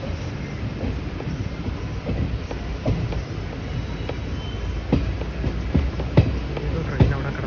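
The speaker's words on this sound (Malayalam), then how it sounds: "ട്രെയിൻ അവിടെ കിടപ്പുണ്ടല്ലോ" The Kannur Bangalore Express stands at a Kozhikode station below the AKG flyover, giving a low rail rumble with scattered clanks and knocks, while people talk over it.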